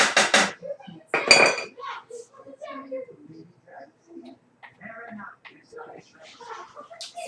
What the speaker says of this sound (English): I'm going to scrape this all out